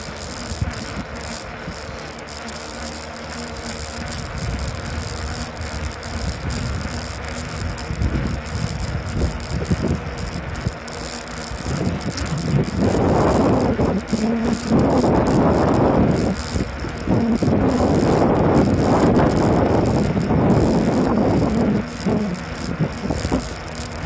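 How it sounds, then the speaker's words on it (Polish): A fat bike rolls over asphalt on a ride through the Beskid Niski area, with constant rattling and wind buffeting the microphone, growing louder and rougher in the second half. "Wyjątkowo jadę asfaltem, żeby się nie schlapać, wiadomo."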